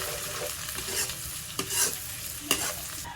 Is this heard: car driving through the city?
no